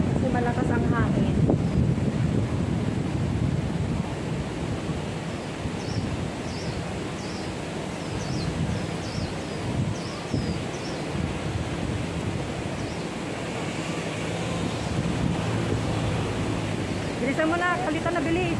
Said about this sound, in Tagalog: Para yatang ulan kasi malakas ang hangin.